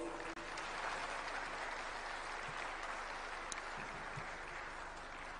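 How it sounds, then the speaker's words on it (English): Delegates applauding at an African heads-of-state conference on human resources, a faint, even wash of clapping from a large hall, sustained without pause. "Distinguished delegates, a bigger round of applause."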